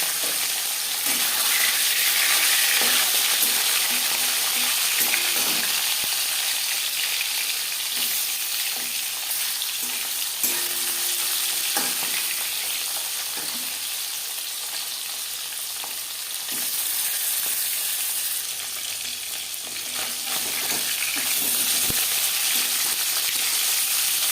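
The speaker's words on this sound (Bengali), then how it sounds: "চার পাঁচ চামচ সর্ষের তেল গরম করে নেওয়ার পর দিয়ে দেবো ইলিশ মাছ" Hilsa fish pieces fry in hot mustard oil in a pan, a loud continuous crackling sizzle heard up close that swells and eases slightly, with occasional utensil taps and no voices.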